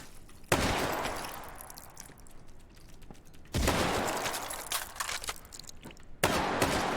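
Heavy gunfire from alternating weapons in a video game, loud bursts of rapid fire starting suddenly three times, each burst followed by a decaying rattle of shots.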